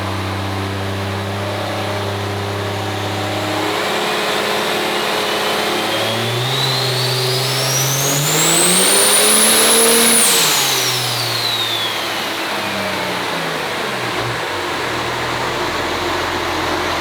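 A 1704 hp fuel-only diesel street truck engine on a dyno roars loudly and steadily, its revs climbing to a high peak and then falling back down.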